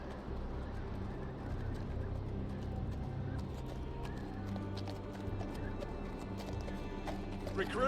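Steady clip-clop of horse hooves trotting in the video game Game of Thrones: A Telltale Games Series, under a layer of background noise and faint voices, with a brief whinny.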